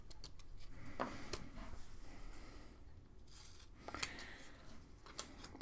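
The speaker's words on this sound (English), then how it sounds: "And trim off some more of this excess here." Scissors trim excess string on a DIY string art piece, making soft, close snips and faint rustles in a quiet room, with a couple of sharper cuts spaced apart.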